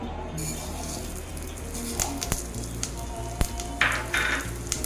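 Ghee tempering with urad dal and cumin seeds sizzling in a pan, a steady close hiss broken by sharper crackles and small pops, with faint clinks of a spoon.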